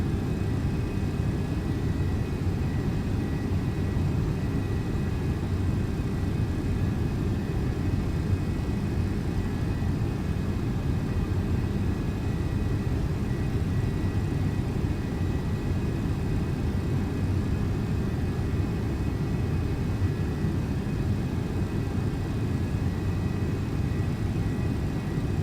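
MD-11F cargo jet engines at takeoff thrust in the X-Plane flight simulator, a steady, loud, broadband roar with a deep rumble that holds constant throughout, heard alone without speech.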